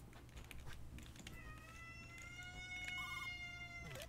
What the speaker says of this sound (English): I don't know if you heard that kitty cat, but it sounded like an alarm clock